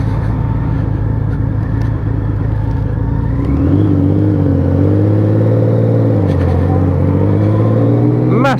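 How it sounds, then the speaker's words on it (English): Honda Valkyrie 1500 motorcycle with a 1500 Gold Wing engine, freshly rebuilt, rumbling steadily while riding, then pulling harder with a deeper, louder engine note that rises and holds, close and continuous with no talk. "Does sound good. So it's got a 1500 gold wing engine in this."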